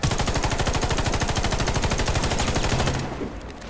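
Sustained rapid automatic gunfire from the video game Warface, loud and close, a steady stream of shots for about three seconds before cutting off into quieter game ambience.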